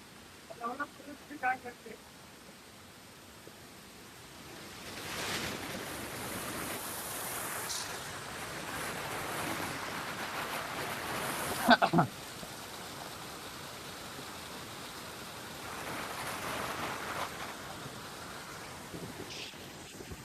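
Water rushes in a stream at a waterfall, a continuous broad roar that swells and stays loud after the first few seconds. Voices can be heard faintly over it.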